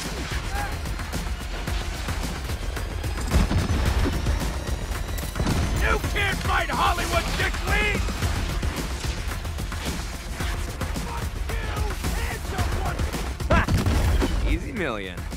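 Gunfire in a heist video game: repeated gunshots and crashing impacts spread across a busy scene, heard under frequent voices talking.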